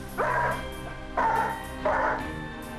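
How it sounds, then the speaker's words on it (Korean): A stressed Weimaraner, a large dog, lets out three evenly spaced whining cries that rise and fade, each fairly close and clear, over a steady background hum. "스트레스 받을 때 우는 소리 내고 하는데"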